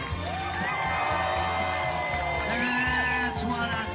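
An audience cheers and whoops in a sustained, loud crowd roar, with overlapping shouts and high yells layered over a pulsing low rhythmic beat.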